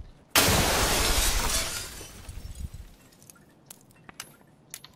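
A grenade detonates in the shooter game Escape From Tarkov: a sudden loud blast with a crackling, glassy debris tail that fades over about two seconds, followed by faint scattered clicks and rattles.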